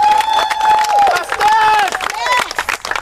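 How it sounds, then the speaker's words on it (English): Outdoor crowd at a park tennis-court art event applauds and cheers, steady clapping mixed with loud whoops and shouted voices, close and energetic throughout. "let's give him another round of applause"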